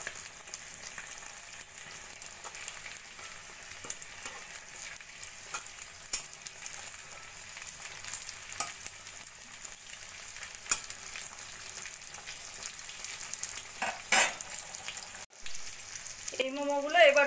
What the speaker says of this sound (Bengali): এই মোমোগুলোর একটা পিঠ ভাজা হয়ে গেছে, আস্তে করে উল্টে দেব।